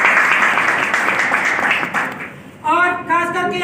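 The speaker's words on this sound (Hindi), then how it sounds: "मेरी अपलाइन ग्रेट रिंकू सर के लिए मैं एक बार जबरदस्त ताली बजाता हूँ।" Seminar audience at Sanji Morh, Kathua, claps loudly and densely for a few seconds, thinning out before a voice starts speaking over the last scattered claps.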